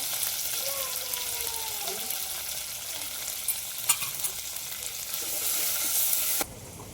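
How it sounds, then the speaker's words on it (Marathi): Cumin and mustard seeds tempering in hot oil, a bright continuous sizzle with a few sharp pops and crackles, while a faint tonal sound drifts in the background early on. "बघा जिरे मोहरीची फोडणी दिली आणि आपल्याला कढीपत्ता आणि कोथिंबीर टाकून घ्यायची"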